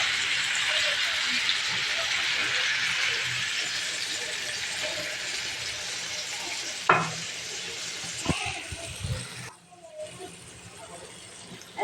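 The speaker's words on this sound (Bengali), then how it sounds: "এখন আমি পানি দিয়ে দিচ্ছি।" Chicken sizzles steadily in a pan, then water is poured in, bringing a sudden splash-like burst and clattering before the frying noise drops and turns uneven.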